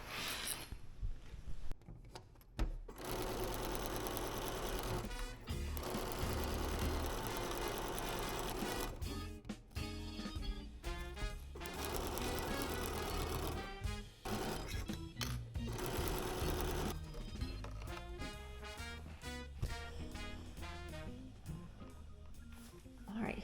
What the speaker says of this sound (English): Let's go get this sewn up.